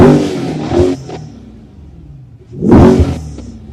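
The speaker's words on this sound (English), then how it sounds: "I'm going to rev it up for you guys." Engine of a C8 car revved twice up close, each a loud rising roar that quickly falls back to a low idle rumble in the gap between, with no talking.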